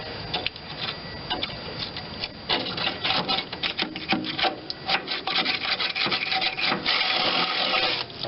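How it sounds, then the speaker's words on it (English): Drill bit grinding through thick metal on a Vermeer BC625A, a dense, scratchy, continuous rasping with irregular bursts and stutters as the bit chews through, close and loud. "Maybe I'm really drilling at the wrong angle."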